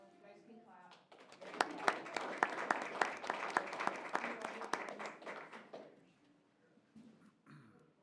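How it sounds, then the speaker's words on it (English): Audience applause breaks out at a city commission regular meeting, a room of steady clapping that swells for several seconds, then fades into scattered claps and quiet voices. "You guys can clap."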